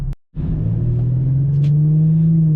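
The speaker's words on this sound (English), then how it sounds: "Let me go ahead and downshift." An Infiniti car engine in manual mode drops a gear, a steady low rumble and drone rising slightly after a brief cut, close and loud with no talk.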